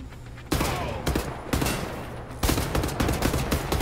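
Heavy automatic gunfire from Wolfenstein: The New Order comes in three loud, close bursts of rapid shots, each starting abruptly, with no talking.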